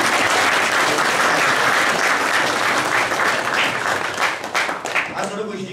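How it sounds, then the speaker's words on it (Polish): Sustained audience applause at a Polish carol-singing gathering with a cardinal, dense and steady for several seconds before easing off at the end. "Dajmy brawa."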